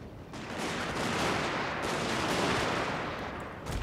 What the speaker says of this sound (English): One more volley and I'll pull them back.